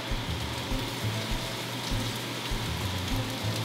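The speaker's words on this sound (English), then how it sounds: "Fry up a bit of kale." Kale sizzles and crackles steadily in hot olive oil in a frying pan, a close, continuous spattering hiss throughout.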